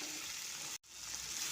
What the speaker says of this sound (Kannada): ಇದನ್ನೆಲ್ಲ ಒಂದು 2 ನಿಮಿಷ ಎಣ್ಣೆಯಲ್ಲಿ ಫ್ರೈ ಮಾಡ್ಕೊತಾ ಇದ್ದೀನಿ